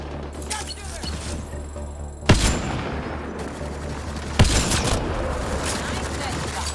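Gunfire crackles in the sci-fi video game Mass Effect Andromeda: two loud, sharp shots stand out over ongoing battle noise and a low drone.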